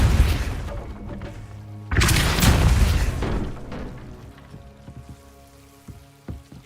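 A Depulso spell cast in the video game Hogwarts Legacy bursts out as a sudden loud whooshing blast, then fades under a wash of game ambience with a few sharp ticks and knocks trailing after.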